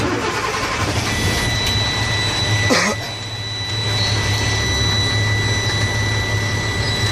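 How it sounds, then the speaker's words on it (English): A truck engine in neutral with brakes applied, started during a pre-trip inspection: a steady, loud low rumble runs throughout, broken by a brief cranking burst near the middle before the idle settles back in. "I'm going to turn the truck on."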